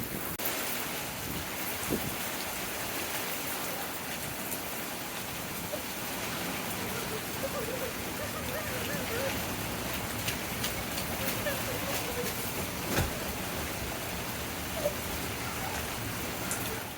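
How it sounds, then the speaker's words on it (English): Rain falls outdoors as a steady, broadband hiss. A wind-like wash sits under it, and a few faint knocks come through for the full length of the clip. "I don't think it's raining that much"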